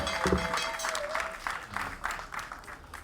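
Audience applauds after a speech at a community gathering in a neighbourhood, steady clapping from a crowd at moderate distance, with faint background voices.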